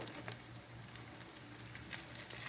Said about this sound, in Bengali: এখন উল্টাই দিব উল্টায়া একটু লাল লাল করে ভাজবো